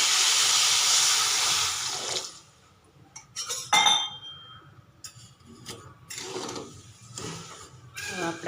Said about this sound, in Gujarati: ખાંડ ઓગળે ત્યાં સુધી આને આપણે હલાવવાનું છે